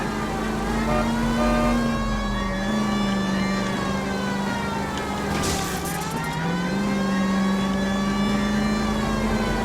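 A car engine revs hard during a police chase in the video game L.A. Noire. The loud, sustained drone holds steady for several seconds, its pitch dipping briefly before climbing back.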